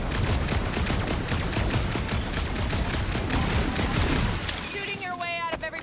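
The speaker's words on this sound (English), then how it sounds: "Shooting your way out of every problem again, Peter?" Rapid gunfire in the Guardians of the Galaxy video game forms a dense, continuous fusillade of loud, close shots, tapering near the end with some game sound effects and voices mixed in.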